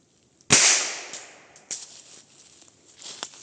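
One sharp, loud gunshot cracks out in a forest during a hunt, ringing off at over 10 metres, followed by faint scattered clicks and shuffling nearby.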